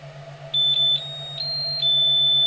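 A FlashForge Guider 2S 3D printer gives out calibration beeps, a run of short high electronic tones that merge into longer sustained beeps, close and loud over a low steady machine hum.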